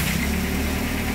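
A Honda K21 engine running at idle after being cranked during an injector test, a steady, loud, close mechanical rumble that continues unbroken.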